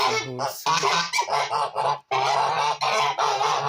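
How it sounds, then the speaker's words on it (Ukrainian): Several Kholmogory geese honk loudly and continuously at close range, their harsh overlapping calls forming a noisy, busy chorus. "Тут сіра гуска, то така голуба гуска з білим і то гусак."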